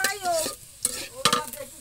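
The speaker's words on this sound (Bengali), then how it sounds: "দেখুন আমার পেঁয়াজ ভাজা হয়ে গেছে।" Onions frying for dal are stirred in a pan, quick scraping strokes of a spoon with a soft sizzle underneath, a few distinct scrapes close by in a short burst.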